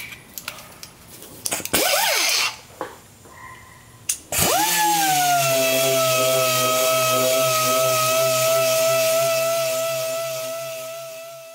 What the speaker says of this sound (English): Some more sanding.